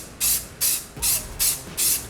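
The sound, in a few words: light gray spray paint being sprayed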